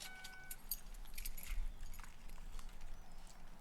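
Car keys jangling as they are passed over, a light metallic rattle in bursts over a low rumble of background noise.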